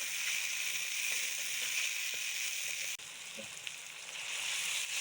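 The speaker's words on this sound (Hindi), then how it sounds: "टमाटर को भी अच्छी तरह से भूनेंगे।" Tomatoes frying with onions and beef in a pan, a steady close sizzle running throughout with a brief dip midway and small pops, no talking.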